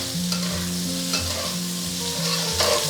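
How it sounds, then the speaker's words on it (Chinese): Pork belly stir-frying over medium-low heat in an iron wok with a little cooking oil, a steady close sizzle broken by a few scraping stirs, with no voices. "然后接着我们把五花肉放上去，煸出油脂。"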